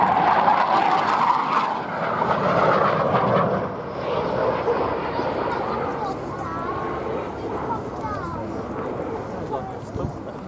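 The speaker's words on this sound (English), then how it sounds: "that was the Hunter's final part of a beautifully flown routine by Andy Hill, a former RAF pilot" A Hawker Hunter T7 jet performing an airshow display at Duxford, a loud broad roaring whoosh that slowly fades as the aircraft pulls away, with someone commenting over it.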